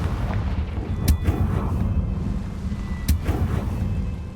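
Two sharp fiery blasts from the Confringo spell in Hogwarts Legacy, spaced about two seconds apart over a steady low rumbling background.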